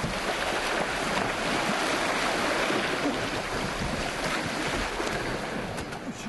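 Broad, steady wash of surf breaking along the rocky shore of a remote island where a couple gathers seaweed, with wind buffeting the microphone throughout and no voices.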